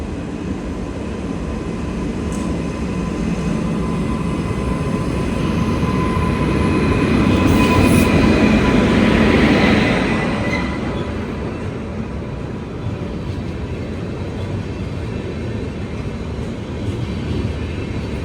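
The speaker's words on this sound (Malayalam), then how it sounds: "ഗാന്ധിനഗറിൽ നിന്നും ദൗലത്പൂർ ചൗക്ക് വരെ പോകുന്ന വണ്ടി." A passenger train bound for Daulatpur Chowk on a railway line near Una, Himachal, rumbles past in a long, steady roar that swells to a peak midway and then eases off, with no voices.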